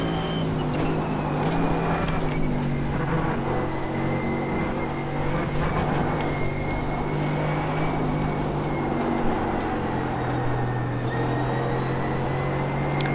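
Mercedes GT3 race car engine in the iRacing simulator, a steady loud drone with sustained harmonic tones that shift slightly in pitch as the car holds speed through a corner, continuous with no talk.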